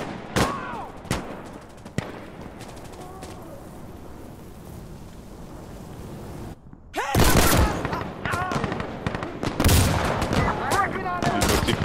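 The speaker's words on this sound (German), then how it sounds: "Warum schießt du auf den eigenen?" Gunfire in the tactical shooter Insurgency Sandstorm: scattered single shots at first, then dense bursts of loud, sharp reports with an MG3 machine gun nearby, with people talking in German over parts of it.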